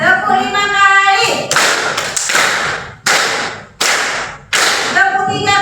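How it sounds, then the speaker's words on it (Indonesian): Schoolchildren in an Indonesian language class clap in unison five times, each clap a sharp, loud group smack in steady rhythm, framed by a teacher talking before and after. "Tepuk 5 kali."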